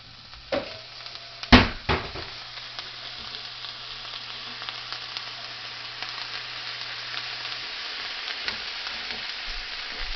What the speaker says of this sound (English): you return your hamburger meat back to the skillet